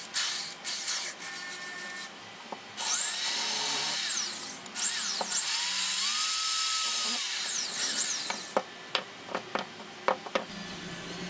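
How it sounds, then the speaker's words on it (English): A keyless-chuck power drill whirs in several bursts drilling screw holes, its whine rising and falling in pitch, with clicks and clatter between the runs. "Drilling 2 holes for the screws that will hold the LEDs in place."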